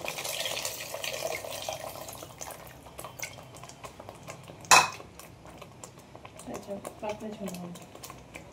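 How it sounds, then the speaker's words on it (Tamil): Tamarind water is poured into a pan of anchovy fish curry, nethili meen kulambu, with a soft splashing rush followed by utensil clinks and a sharp clatter, while a voice talks. "புளி தண்ணியும் ஆட் பண்ணிப்போம்."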